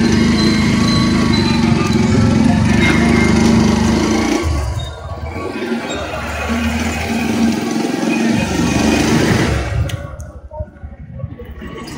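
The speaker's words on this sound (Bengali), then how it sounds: "স্ট্যান্ড পড়ে থাকলে বাইক স্টার্ট।" A BS6 motorcycle starts up in a parking area and settles into a steady running engine note, loud and close, with a brief dip midway before the engine sound tapers off near the end.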